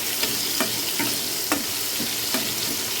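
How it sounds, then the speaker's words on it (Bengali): Tomatoes with a pinch of salt frying in a pan for a hilsa fish head dish, a steady close sizzle broken by soft stirring taps at irregular intervals, with no talk. "আমি টমেটোটাকে একটু ভেজে নেব"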